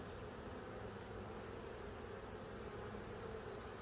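Honeybees buzz steadily at an open hive during a colony inspection, a dense continuous hum that stays close and even throughout with no voices.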